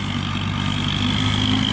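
A Kubota L2501 tractor engine runs at a steady idle, a continuous low mechanical drone with a faint whine on top, fairly close and unchanging throughout.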